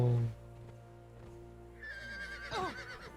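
A horse whinnies in the video game Conan Exiles, with a loud snort at the start and then a rising, wavering neigh alone.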